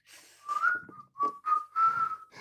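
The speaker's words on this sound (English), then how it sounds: "That's a terrible whistle, isn't it?" A person whistles a short, wavering tune in several breathy phrases, a bit unsteady, close to the microphone.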